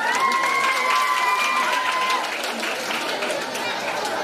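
Audience at a prize-giving event for paithani saree winners claps in a dense, continuous burst of applause, fairly loud, with crowd chatter and a voice talking over it.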